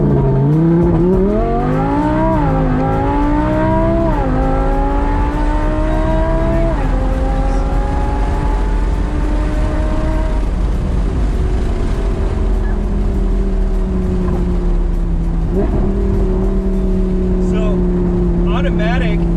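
Audi R8 V10 under launch control, the engine held near 4,000 rpm and then pulling hard through rising revs and gear changes, a loud continuous roar heard from inside the cabin.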